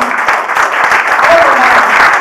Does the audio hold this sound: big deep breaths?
no